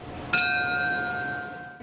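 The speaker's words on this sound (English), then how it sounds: "the ringing of the bell" A memorial bell rings once at a ceremony for the victims of a plane crash. It is a single clear strike with a long ringing decay under quiet room noise.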